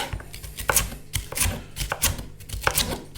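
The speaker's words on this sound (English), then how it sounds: "we're just going to cut these into strips, keeping them chunky-ish still" A knife chops vegetables into chunky strips for a chicken chipolata casserole, giving five or six crisp, evenly spaced cuts against a board, close and clear with no talking.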